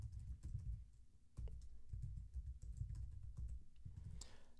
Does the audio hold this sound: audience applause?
no